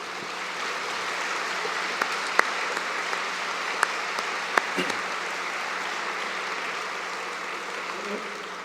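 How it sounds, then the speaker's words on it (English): A large convocation audience gives the MacEwan University Jazz Band sustained applause, a dense, even wash of clapping with a few sharper claps standing out. "let's just bring a big round of applause to the very talented group of individuals who are sitting behind me"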